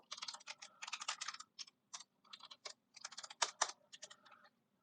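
Keystrokes on a computer keyboard while code is typed, with quick clustered clacks in irregular bursts and short pauses, close and fairly quiet with no talking.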